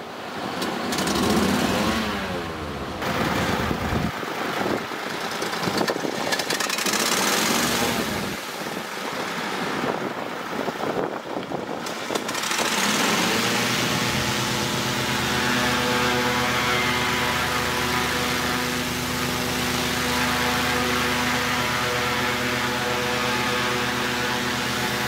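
Small engine fitted with a homemade electric choke actuator runs steadily, a loud continuous drone with a rough, uneven stretch early on before it settles into an even, harmonic-rich hum.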